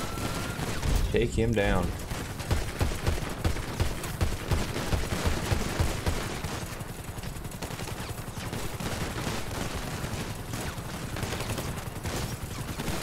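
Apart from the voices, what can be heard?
gunfire in the video game GTA 5 LSPDFR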